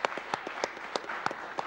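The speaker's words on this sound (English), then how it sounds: "Everybody give a round of applause for Cole." An audience claps and cheers at a speedrunning charity marathon event, a short burst of applause at steady volume with distinct individual claps audible.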